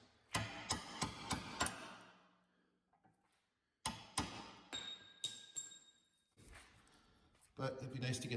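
Metallic hammer strikes ring out in quick bursts knocking out a Volkswagen rear axle beam bushing ring, several blows in a row, pausing and then resuming, close by.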